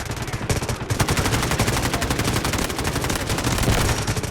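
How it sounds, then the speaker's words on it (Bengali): Rapid automatic gunfire from the mobile shooter game Delta Force Mobile, a loud dense burst of shots rattling continuously throughout with no talk over it. "কিরে, কে গুলি করে?"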